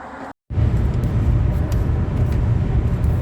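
A car on a New England road trip, driving from Bangor to Lubec, Maine: a steady, loud low rumble of engine and road noise from inside the cabin after a brief cut to silence.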